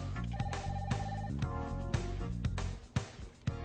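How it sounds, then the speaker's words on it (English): A telephone rings at a hotel reception desk, its electronic trill repeating over a busy, continuous music bed, moderately loud with no speech. "Answer the phone promptly, within 3 rings if possible."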